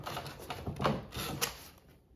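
Several crisp snipping and crunching sounds close up, irregular and effortful, as scissors work through the stiff plastic packaging of a hobby storage tote.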